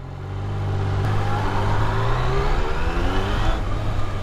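A Tracer motorcycle engine revs up close and loud, its pitch climbing and holding in a throaty, sustained roar with no voices over it.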